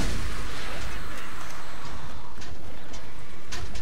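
Alien enemies firing guns in the video game Borderlands, a loud dense burst of gunfire and impacts filling the short moment, close and harsh.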